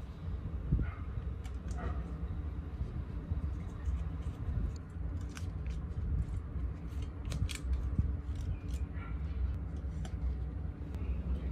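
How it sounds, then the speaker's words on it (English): Scissors or cutters snip zip ties off a vintage mountain bike, giving scattered sharp clicks and snaps over a low, rumbling room background. "just cutting off the little zip ties"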